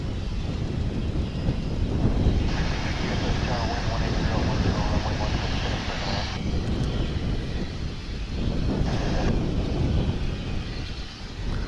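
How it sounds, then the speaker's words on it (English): An American Airlines A319 landing on the east side of Dallas/Fort Worth International Airport, a broad, steady engine roar from a distance that stays even throughout, with voices talking over it. "Here's American Airlines Flight 1114 coming in from Syracuse, New York. It's an A319."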